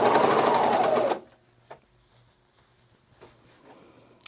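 A serger sewing machine stitches a T-shirt seam in one loud, close, steady whirring run lasting about a second, then stops abruptly, leaving faint handling noises and quiet background.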